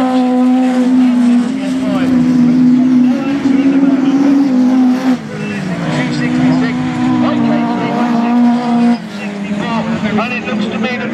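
Race cars at a UK autocross circuit in Nottingham lap continuously, a steady loud engine drone rising and falling as they pass, running the whole time beneath a commentator's ongoing speech.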